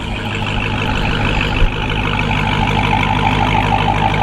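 A 2022 Dodge Charger Hellcat Widebody idles loudly nearby, a heavy, steady engine rumble with one brief surge partway through.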